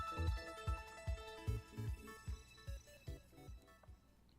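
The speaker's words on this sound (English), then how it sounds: "Your ARC phone is beeping." Arc Phone in Pokemon Legends: Arceus beeping and chiming in a quick run of bright melodic tones over low plucked bass notes, alone and moderately quiet.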